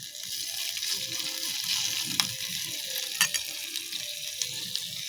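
Chopped leafy greens hit hot oil in a home kitchen pan, giving a steady, loud sizzle with a few clinks and stirring sounds.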